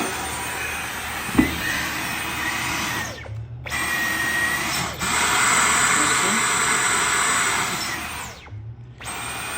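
A Dyson V11 cordless vacuum cleaner sucks at a narrow cardboard box, a loud steady whooshing whine that cuts out twice and rises in pitch as it draws harder, with someone speaking over it.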